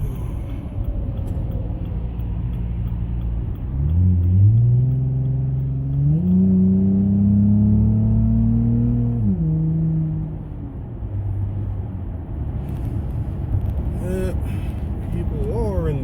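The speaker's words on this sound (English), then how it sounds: "get the engine nice and hot, warmed up, and ready to go." A Dodge Journey engine with a sport tune idles, then climbs into a sustained rev that holds for several seconds before dropping back to idle, loud and close, with some talk over it.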